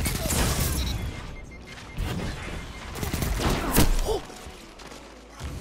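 Rapid sky rifle fire in a video game, with bursts of sharp shots, thuds and crashing impacts at close range, loud and uneven, and some brief voices over the action.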